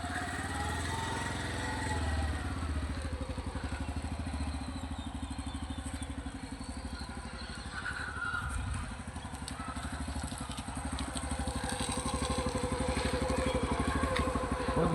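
A motorbike engine runs steadily with a dog riding along, a close, continuous chugging idle-like rumble lasting throughout with slight rises in loudness.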